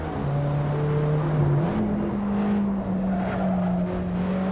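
Alfa Romeo 4C mid-engine car lapping Laguna Seca in Assetto Corsa, engine droning steadily with a pitch rise as it accelerates out of a corner, loud and continuous with no talk.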